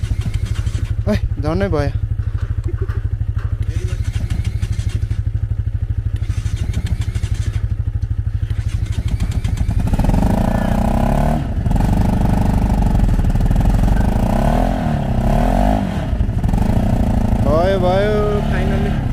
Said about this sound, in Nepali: फाइनली हाम्रो चाहिँ बाइक स्टार्ट पनि भइ नै सक्यो